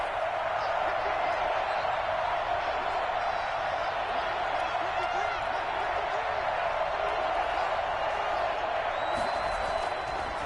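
A football stadium crowd keeps up a steady, dense roar beneath a play-by-play commentator during an American football game, with the noise holding at a constant level throughout.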